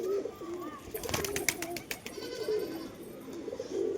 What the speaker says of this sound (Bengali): মোটামুটি সব কবুতর নেমে পড়েছে